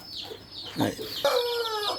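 A fighting rooster clucks and calls a few times nearby at a poultry farm in Warangal, Telangana, with bird chirps and a faint voice in the background.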